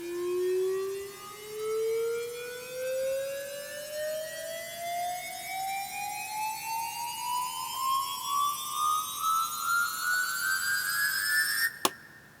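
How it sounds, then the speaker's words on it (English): A smooth tonal riser sweeps steadily upward in pitch for several seconds, pulsing gently as it climbs, then cuts off with a sharp click. "And this one, I bring in my tonal riser."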